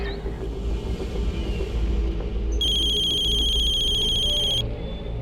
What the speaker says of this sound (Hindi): कबीर अभी अभी त्रिशा का फोन लग गया था